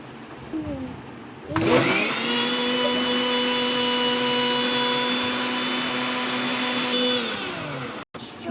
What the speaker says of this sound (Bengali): দুই মিনিট ব্লেন্ডারে ব্লেন্ডার করার পরে এই অবস্থা দেখুন